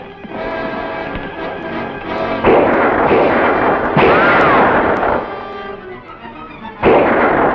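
Gunfire in a western movie: repeated loud, close gunshot blasts at irregular intervals, each one followed by a ringing tail, all mixed with a dense film soundtrack.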